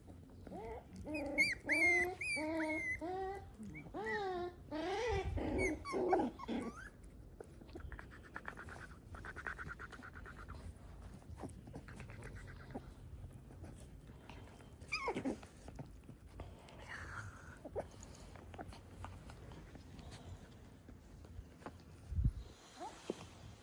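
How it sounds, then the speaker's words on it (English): Several fluffy little puppies whimper and yelp in high, wavering cries through the first seconds, then settle into quieter snuffling, panting and occasional squeaks nearby, with a few sharper yelps later. "surrounded by a bunch of fluffy little pups"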